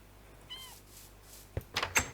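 A Minecraft Bedrock Edition village cat gives a short meow at moderate volume, followed by a few soft thuds and clicks near the end, with no talking.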